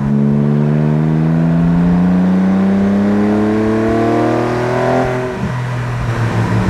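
A Porsche Boxster's 2.7-litre flat-six running without mufflers revs hard and loud, its rising engine note climbing steadily before easing back, close up with no talk over it.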